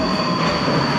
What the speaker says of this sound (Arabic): خلاص المترو وصل والمفروض ان احنا نركبه دلوقتي.